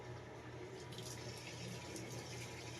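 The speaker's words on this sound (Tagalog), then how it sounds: "Siyempre, hugasan muna natin bago natin" Tap water runs steadily over fresh moringa (malunggay) leaves being rinsed of dust, a continuous broadband splashing flow with no speech over it.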